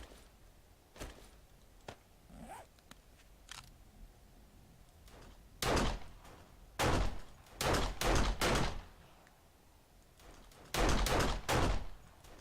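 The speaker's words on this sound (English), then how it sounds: "Let's try the pistol." Pistol gunshots in the survival video game 7 Days to Die, fired in spaced bursts: sharp broadband cracks arrive singly and in quick clusters of two to four, loud and close, with quiet stretches between volleys.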